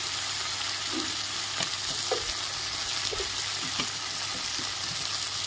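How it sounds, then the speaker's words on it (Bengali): Chopped tomato, chili powder, turmeric and salt sauté in hot oil in a pan, giving a constant close sizzle broken by scraping stir strokes every second or so. "ভালো করে কষিয়ে নেব।"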